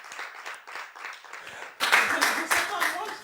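After a stretch of scattered, light clapping, an event crowd breaks into louder, denser clapping and cheering partway through, the sound swelling abruptly and continuing to the end.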